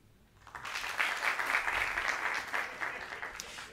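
A stand-up comedy crowd in a venue swells into applause from a quiet start, then holds a dense, steady clapping for several seconds.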